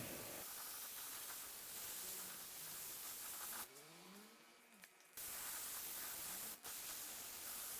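Steady loud hiss of spray paint applied to a 3D-printed Power Rangers Samurai Red helmet, long continuous bursts broken by a short pause and a brief gap, no voices.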